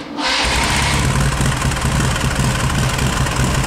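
A DB HBR5 car's engine catches and settles into a steady, loud idle, breathing out through twin side-by-side exhaust lines, with a low throbbing rumble held throughout without any talk.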